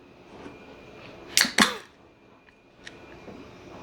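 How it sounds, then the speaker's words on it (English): A can of Brooklyn Brewery Crisp Pilsner cracks open with two sharp, close snaps in quick succession, followed by a faint hiss and a few small clicks in an otherwise quiet room. "so let's crack this bad boy open"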